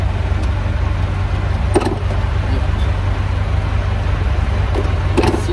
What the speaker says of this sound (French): je vais actionner l'hydraulique du tracteur